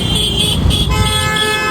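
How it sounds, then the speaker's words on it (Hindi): Street traffic in Raipur with a car horn tooting in short bursts over a steady hum of engines, close and loud over about two seconds. "ट्रैफिक देखा, ट्रैफिक।"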